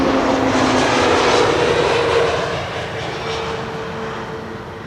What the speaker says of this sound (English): EasyJet A320 Neo.